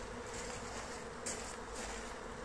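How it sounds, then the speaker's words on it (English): Dense, steady buzzing of many honeybees flying strongly around an opened school beehive, a continuous close swarm drone filling the whole moment with no voices. "We've got the hive apart and it's flying strongly."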